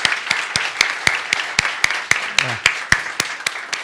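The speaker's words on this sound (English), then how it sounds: "We give Ali a warm applause" Sparse, rhythmic clapping at a startup event in Almedalen, a handful of sharp, evenly spaced claps with faint voices murmuring underneath.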